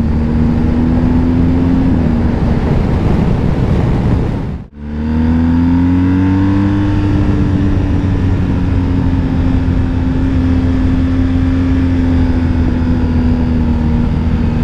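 A BMW R 1250 GS motorcycle engine, still being run in, drones loudly and steadily up close, dropping off briefly at a gear shift before pulling again with a rising tone.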